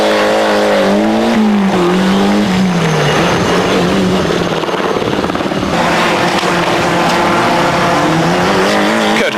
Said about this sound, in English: Ford Escort Cosworth. All over the curbs